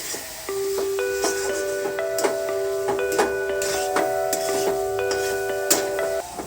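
Thickening syrup for Bengali motichur laddu is stirred in a pan, giving a steady sizzle with repeated scraping and clinking of a spoon against the metal, along with a sustained tonal hum in the background.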